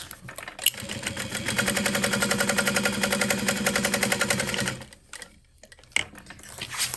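A sewing machine stitching a shoulder bag, running in a fast, even mechanical patter for several seconds, then stopping, followed by a few faint clicks and handling noises.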